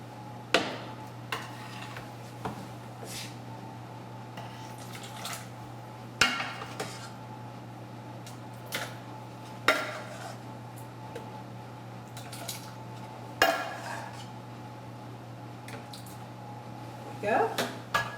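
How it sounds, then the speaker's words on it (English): Puree is ladled into a food processor in a home kitchen with sharp, scattered clinks and knocks of a ladle against the bowl. A low steady hum runs underneath the clatter. "I already have the food processor, set up. And I'm just going to ladle it in."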